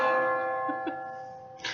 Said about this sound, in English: I can barely hear you over this stupid bell.